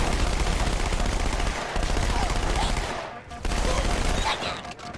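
Sustained gunfire in the shooter game Halo 2, with dense, loud automatic bursts running almost without pause across the clip and a brief lull near the middle.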